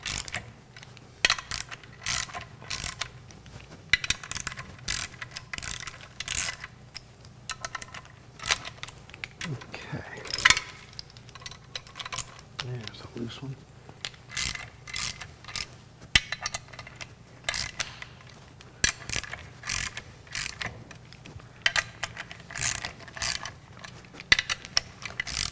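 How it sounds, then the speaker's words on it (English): A torque wrench ratchets in bursts of quick, dry clicks while tightening a fastener toward 18 pounds, the clicking fairly close and interrupted by pauses and quiet handling noise. "I can read the numbers on the torque wrench, we'll be able to get this to 18 pounds."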